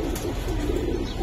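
A pigeon pair, with the hen sitting on eggs, makes a steady, close, pulsing low coo that runs without a break.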